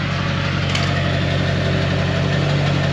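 An LB7 Duramax diesel engine runs steadily just after its first start, a loud, even idle with a dense mechanical clatter and low drone close by, no voices.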